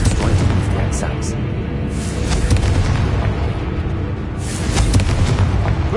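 A Confringo blasting spell from Hogwarts Legacy erupts in deep, rumbling booms that roll on continuously at close range, loud and sustained with bursts of crackle layered over the low roar.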